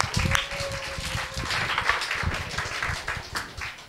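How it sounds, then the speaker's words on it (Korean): Scattered clapping from a small congregation at the end of a church service as someone comes up for announcements, a sparse, modest patter of claps with a faint tone in the background. "박수해 주세요."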